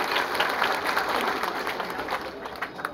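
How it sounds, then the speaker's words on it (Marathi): A crowd at a village election campaign rally applauds, thick continuous clapping from many people, loud and steady with slight swells, a few voices faintly underneath. "टाळ्या वगैरे स्वागत"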